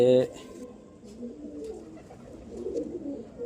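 Double mor pigeons at a pigeon-flying cup in Amritsar: a brief loud burst opens, then a soft, steady cooing murmur continues close by with no speech.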